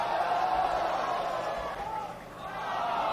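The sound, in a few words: crowd cheering at booster landing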